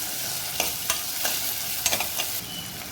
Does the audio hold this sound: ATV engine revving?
no